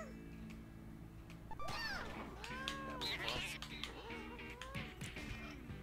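A cat from the game No More Heroes 2: Bitter Bloodlust meows several times in a row, each call rising and falling. The meows are close and clear over a steady low background hum.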